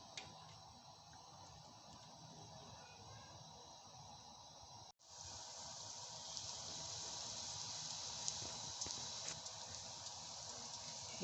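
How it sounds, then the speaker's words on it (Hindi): A katori chaat dough cup goes into hot oil, and after a brief quiet gap a faint, steady frying sizzle takes over and holds. "ये देखें ऑयल गर्म हो गया। अब ये मैं इस तरह कटोरी इसमें डालूँगी।"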